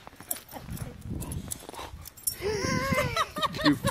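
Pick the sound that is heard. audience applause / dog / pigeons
dog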